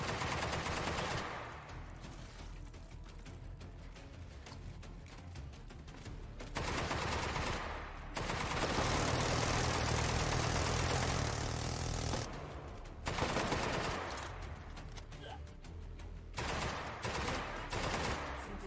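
Sustained gunfire from enemies in a video game, dense rattling machine-gun bursts and fusillades that run almost continuously with a few brief gaps, loud and close with no talking.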